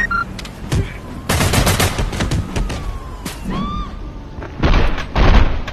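Enemy gunfire in a Spider-Man video game crackles in bursts of rapid shots and heavy thumps, mixed with game sound effects and a brief rising whoosh, with some talk over the action.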